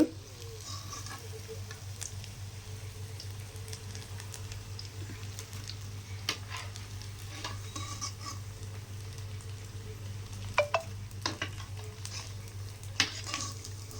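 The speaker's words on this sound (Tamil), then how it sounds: "இதே அளவுக்கு நீங்கள் பொரித்து எடுத்துக்கோங்க. இந்த மாதிரி எண்ணெயில் பொரித்து போடுறது" Lentil dumplings deep-fry in hot oil with a steady, low bubbling sizzle, joined by occasional ladle clinks and stirring rustles, close but quiet throughout.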